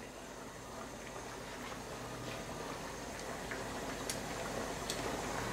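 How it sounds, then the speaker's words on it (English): Water at a rolling boil in a pot on the stove, with potatoes about to cook, gives a steady, dense bubbling hiss with faint ticks, close and continuous, no talk over it. "It's already boiling."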